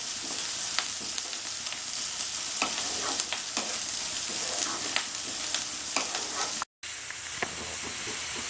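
Sliced onions sizzle in a pan, half-fried before okra and potatoes go in for a Bengali-style dish. A constant hiss carries frequent clinking stirs, with one brief dropout near the end and no voices.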